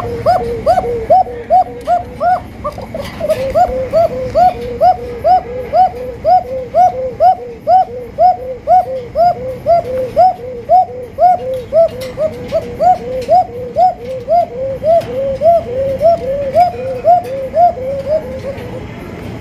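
A pair of pigeons coos steadily and close by, a long run of repeated rolling coos in an even, regular rhythm, with no talking.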